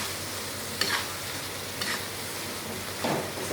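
Tomato masala fries in a pan for drumstick curry, a steady soft sizzle with three brief stirring scrapes spaced about a second apart, close by and with no talking.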